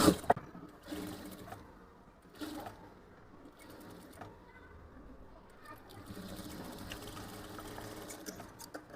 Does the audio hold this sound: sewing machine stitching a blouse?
yes